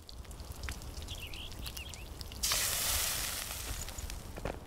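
Lean meat cooking over a fire in the survival game Enshrouded: a faint ambient bed with small chirps gives way to a sudden, steady sizzling hiss that carries on to the end.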